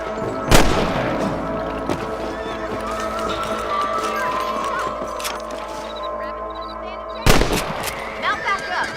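Rifle gunshots in the Western video game Red Dead Redemption, two sharp loud cracks several seconds apart over a steady game soundscape with hooves and ambient noise, the second followed by fainter echoing reports.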